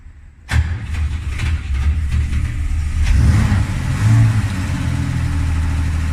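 A 1969 Mercedes Unimog engine cranks from cold in neutral, without choke, and catches with a sudden burst, then settles into a loud, rumbling run close by.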